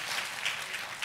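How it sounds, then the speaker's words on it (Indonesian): A church congregation applauds for God in a brief burst of dense, steady clapping that fills the room evenly, with no voices over it. "kita kasih tepuk tangan yang meriah buat Tuhan kita"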